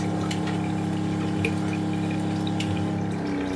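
Water runs steadily from a newly fitted kitchen mixer tap, a constant close rush with a faint hum beneath and a few light clinks, easing slightly at the end.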